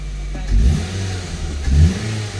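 A misfiring 2011 Ford Focus engine running with two brief revs rising above a steady idle, close by, with no talking.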